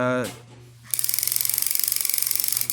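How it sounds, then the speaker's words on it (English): A Skil cordless 3/8-inch power ratchet wrench runs close and loud in a rapid, evenly pulsing mechanical buzz with a bright high whine, after a brief voice at the start. "Skill cordless power wrench. It's a 3/8 socket, a 3/8 ratchet wrench"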